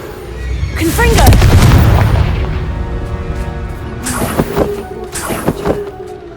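Confringo fire spells burst in Hogwarts Legacy, a loud booming blast followed by a second cluster of sharper crackling impacts, with a voice over the first burst.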